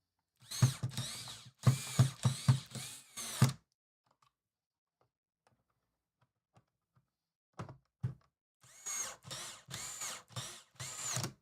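Power drill used while modding a GameCube console: several sharp, loud bursts of whirring and rattling close by, a long quiet stretch with small clicks, then more bursts of drilling near the end.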